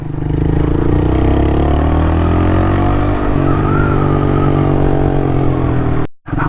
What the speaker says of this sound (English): You can tell directly there is more engine sound now,